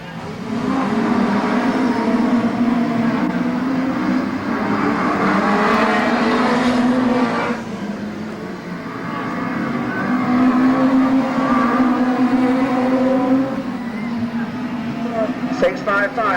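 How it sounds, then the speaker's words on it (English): National Hot Rod cars at the Arena Essex oval start their engines and race off in a handicap event, a steady, loud multi-engine roar that swells, dips briefly, then builds again as the pack circulates. "They've started the engines up."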